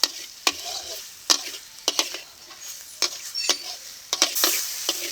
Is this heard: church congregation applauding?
no